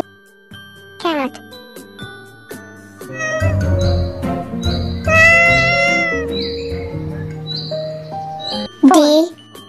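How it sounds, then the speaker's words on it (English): A cartoonish cat meow rings out over a bouncy, chiming musical backing, followed later by another short, bright meow. "Cat."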